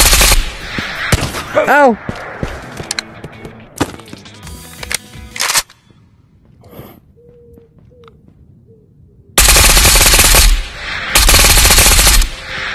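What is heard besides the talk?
gunfire, emptying magazines of AP rounds, video game Ghosts of Tabor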